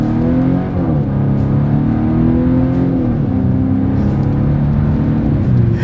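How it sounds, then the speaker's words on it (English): A 2025 Volvo V60 Cross Country wagon engine revs hard as it accelerates, its pitch climbing steadily and briefly dropping at each gear shift, close and loud throughout. "let's see how quickly we can get our new 2025 V60 Cross Country here up to speed"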